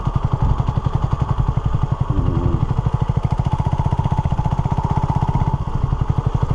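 A Honda CB250RS motorcycle idles on a green lane with a steady, rapid single-cylinder thumping, close and continuous throughout, with a brief clatter partway through.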